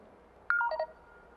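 Telephone keypad dialing tones placing a call at a live conference session: a quick run of about five distinct touch-tone beeps, clear and fairly close, with no talk over them.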